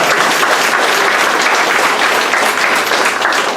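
An audience claps at a speech, a dense and loud burst of applause that holds steady from start to finish with no voices standing out.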